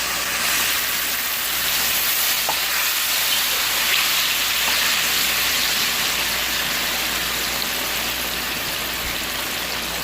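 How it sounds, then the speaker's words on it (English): Plantain pieces fry in oil, giving a loud, steady, rain-like hiss that runs unbroken throughout, with only a couple of faint ticks. "And I'm gonna add the rest of it to fry."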